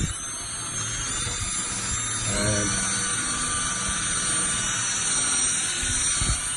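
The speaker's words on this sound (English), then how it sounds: "put it onto the end of your drill, and then away you go" A power drill fitted with a cleaning attachment whirs steadily for several seconds, a continuous motorized whine with a brief change in pitch partway through.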